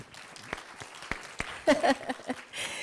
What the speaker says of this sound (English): So would you make him welcome with another clap?